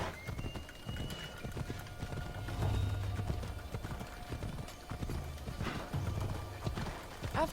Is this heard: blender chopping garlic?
no